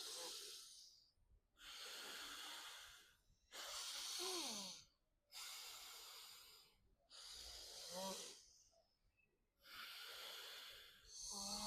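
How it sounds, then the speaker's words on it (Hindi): Alternate nostril pranayama breathing, long drawn inhales and exhales through one nostril then the other, six airy nasal breaths with short silent gaps between, close and quiet. "राइट के साथ हमें श्वास को लंबा खींचना है और लेफ्ट के रास्ते छोड़ना है।"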